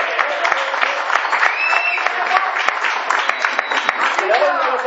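A theatre audience claps loudly and steadily, with scattered cheers and whistles mixed into the dense applause, and voices are audible beneath it.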